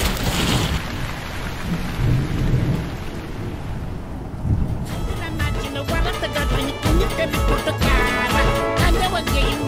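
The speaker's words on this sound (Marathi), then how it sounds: "पाऊस पडतोय बघा" Heavy rain pours down around a car on the road, a dense, loud hiss broken by deep rumbling thunder, with low thumping rhythmic sounds building in the second half.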